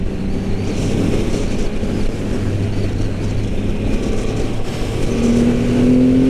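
A 2022 Triumph Rocket 3R motorcycle accelerates on a test ride, its loud, continuous engine roar mixed with wind rush, the pitch climbing toward the end.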